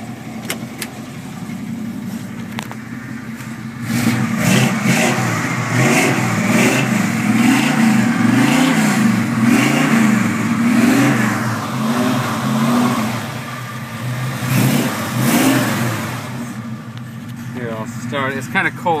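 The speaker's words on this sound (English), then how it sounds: "rev the engine up for you" The engine of a 1970 C10 pickup truck, just started and still cold, idles and then revs up repeatedly in several swelling bursts. It is close and loud, and the rumble settles back between revs.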